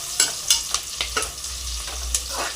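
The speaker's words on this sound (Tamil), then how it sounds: "இப்போ பெரிய வெங்காயம் நல்லா வணங்கணும்." Large onions frying in a pan for chicken biryani, a steady close sizzle broken by repeated sharp scraping clicks of stirring, no voices.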